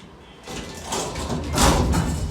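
Heavy sliding doors of an elevator in Mumbai rumble open or shut in one continuous, fairly loud scraping movement that swells toward the end, close by with no talking.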